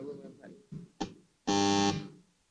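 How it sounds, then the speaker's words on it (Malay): A debate timer buzzer sounds one loud, steady harmonic blast of about half a second, warning that a panelist has one minute left, preceded by brief speech and a couple of short knocks. "satu buzzer akan dibunyikan apabila panelis hanya berbaki satu minit"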